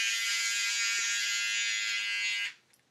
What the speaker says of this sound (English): Get my trusty razor.